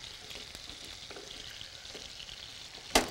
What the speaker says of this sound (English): You're supposed to saute these peaches for up to 15 minutes